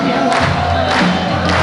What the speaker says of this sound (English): Well, the crowd on their feet here.